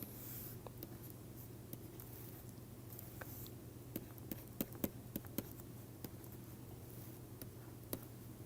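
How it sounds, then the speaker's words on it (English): Pen or chalk strokes while a graph is sketched by hand, faint scratching with a run of sharp taps and ticks clustered in the middle, close and quiet, with no talking. "If we just sketch this"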